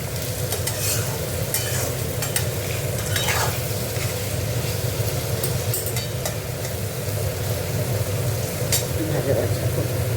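Food frying in a pan while it is stirred, with salt just added during Bengali home cooking. A steady close sizzle runs throughout, with stirring scrapes and light clinks on top.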